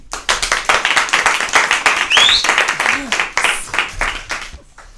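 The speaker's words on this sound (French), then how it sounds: "Je vous demande d'applaudir Bertie." A crowd claps in loud, dense bursts, the applause swelling and thinning over a few seconds before fading out.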